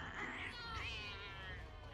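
A cat meows in the film Coraline, a faint, strained yowl lasting a couple of seconds against a quiet background.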